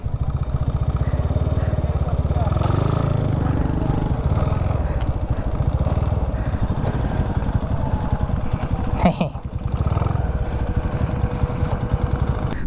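Several motorcycles idle together at a motovlogger meetup in Mindanao, a steady low engine rumble running continuously and loudly throughout, with faint voices mixed underneath.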